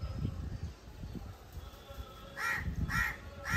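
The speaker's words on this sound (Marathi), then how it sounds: "लिटरली 15-20 कावळे आलेले." Crows cawing while being fed chapatis outdoors, two loud harsh caws near the end over low rustling background noise.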